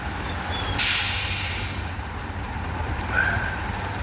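A train at Llandudno railway station gives a sharp burst of air-brake hiss over a steady rumbling idle, followed by a fainter hiss, close and loud with no speech.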